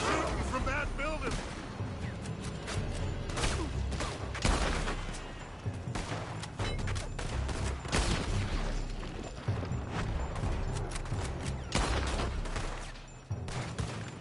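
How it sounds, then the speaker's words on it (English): Gunfire from a building in Red Dead Redemption II crackles in dense, close volleys of sharp shots and booms throughout, mixed with players talking. "They're shooting from that building!"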